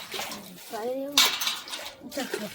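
Brass utensils are being washed, with close metallic clattering and clinking of pots and plates, a sharp clang near the middle, and a voice talking alongside.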